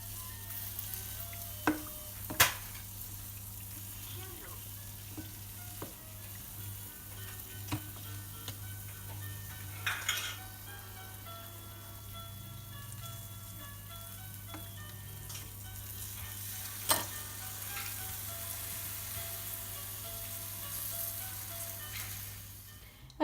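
Griwech dough pastries frying in oil, a faint, steady sizzle with scattered soft clicks and clinks of utensils throughout, no talking.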